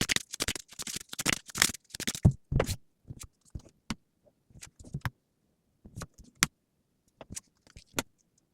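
Tarot cards being shuffled and drawn, with a dense flurry of crisp riffling flicks at first, then sparse single taps and snaps as cards are laid down, close and quiet.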